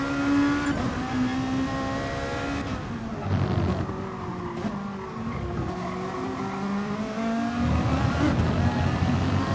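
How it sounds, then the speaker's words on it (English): Race cars in the video game Gran Turismo Sport brake late and accelerate, with engines whining up and down and tires squealing in a continuous close mix over several seconds. "Oh, there's some late braking by Cairo there."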